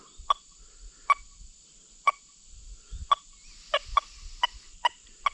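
XP Deus 2 metal detector beeping on a dime, a series of sharp, clear electronic tones repeating at irregular intervals over a steady faint hum.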